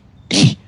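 A single sharp human sneeze bursts out close to the microphone, loud and brief, followed by the start of another voice sound.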